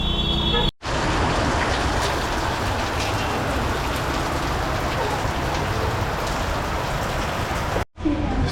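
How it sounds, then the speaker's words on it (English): Steady rain hisses down on a night street in Pokhara, Nepal, in a dense, continuous wash, briefly cutting out at the start and end. "It's still raining"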